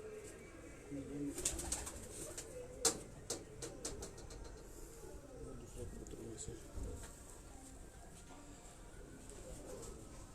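Green-necked Nag breed pigeons coo softly on a rooftop loft, with scattered clicks and wing flutters and a quiet voice talking faintly in the background.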